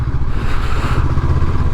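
A 2022 Honda CB500X adventure motorcycle ridden off-road, its engine giving a loud, low, steady rumble with a rough, pulsing texture and slight clatter over the short stretch.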